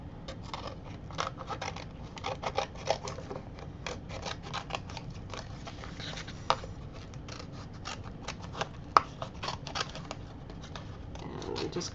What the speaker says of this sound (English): And I'm just cutting these up.